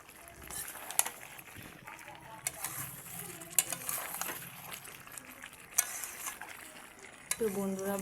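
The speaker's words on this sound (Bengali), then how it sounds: "খাসির মাংসটা অলরেডি কষা চলছে।" Mutton being stir-fried down in a pan during kosha, a faint low sizzle with occasional sharp utensil clinks and scraping, while a voice talks over it near the end.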